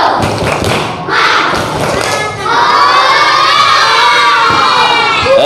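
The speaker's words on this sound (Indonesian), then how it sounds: "Tepuk semangat." Classroom of children doing the rhythmic tepuk semangat clap, with loud thumping claps and excited shouting voices that build into sustained cheering, close and energetic.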